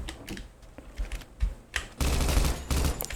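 A gun fires inside the video game Minecraft, a few scattered clicks followed by a dense, loud burst of rapid-fire shots lasting about a second.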